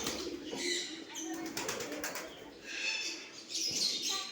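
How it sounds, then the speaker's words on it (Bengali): Pigeons gathered at a palace garden, with soft cooing and fluttering wing flaps heard faintly amid outdoor ambience and light background noise. "বা সাইডে অনেকগুলো পায়রা আছে পায়রা এই যে পায়রা"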